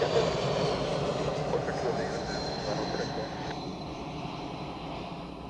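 Aircraft engine noise at Zurich Airport, a steady loud roar holding throughout with airport radio chatter faintly mixed in.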